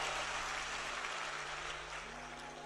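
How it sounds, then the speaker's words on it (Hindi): Steady applause from an audience at a Hindu religious discourse (katha), a dense, continuous wash of clapping that holds level and then eases slightly toward the end, with no talking over it. "एक बार जोरदार ताली बजा"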